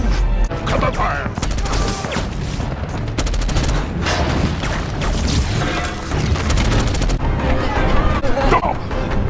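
Sustained covering gunfire in a Transformers film battle, dense rapid bursts of shots and booms layered with mechanical clanks and crashes, loud and continuous throughout.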